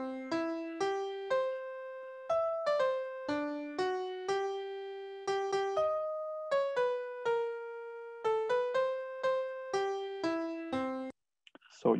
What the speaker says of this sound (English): the last part of this national anthem of US sounded slightly off